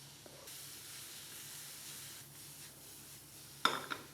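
Meat for carne al pastor goes into a frying pan with caramelized onion. A faint, steady hiss runs until a sudden clatter and burst of sizzle near the end.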